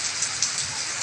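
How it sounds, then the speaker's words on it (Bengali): Heavy rain from Cyclone Remal pours down on the Bangladesh coast, a continuous dense hiss of drops striking surfaces with small gusty swells, steady and moderately loud throughout. "খুব ভয়ঙ্করভাবে বৃষ্টি চলতেছে"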